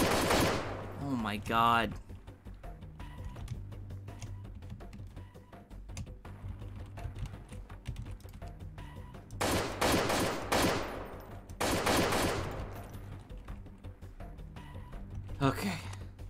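Bursts of automatic gunfire from the guerrilla-warfare video game Freeman: Guerrilla Warfare, loud volleys clustered at the start and again midway, with a quieter stretch between and a voice talking over it.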